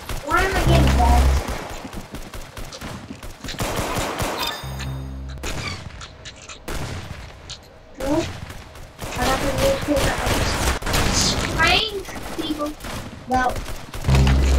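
Gunfire from the Roblox game Arsenal rattles through in dense, repeated bursts and single loud shots across the whole stretch, close and punchy, mixed with other game effects.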